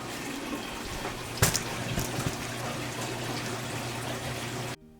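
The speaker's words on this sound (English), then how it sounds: "this system is loud with draining noises and water flow sounds" Continuous trickling and splashing of water draining through a fish tank filtration system, moderately loud and steady with a brief louder splash, then cutting off abruptly near the end.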